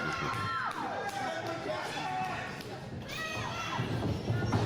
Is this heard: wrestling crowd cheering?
yes